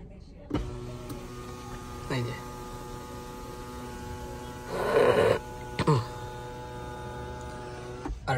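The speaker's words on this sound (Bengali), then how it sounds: "এই প্যানোরামিক রুফটা চাইলে অফ করে দিতে পারবেন" The electric panoramic roof shade of a 2022 Toyota Corolla Cross Z Leather Hybrid closes with a short motor whir partway through, bracketed by clicks, over a steady cabin hum while someone talks.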